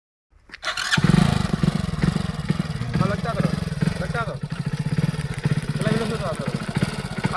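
A motorcycle engine starts up and revs loudly, then keeps running with a rough, pulsing roar as the bike is ridden, with voices faintly underneath.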